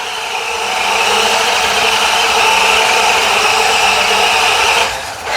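A WPL D14 Suzuki Carry RC kei truck on stage 2 throttle gives off a loud, steady electric motor whine with a buzzing drivetrain as it drifts. The whine holds evenly for about five seconds, then briefly drops.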